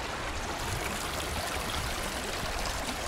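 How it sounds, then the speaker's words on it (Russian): Small waterfall stream trickling along a path in Moldova, a steady broadband rush of falling water, close and even throughout with no voices. "И вот тут такой этот водопадик."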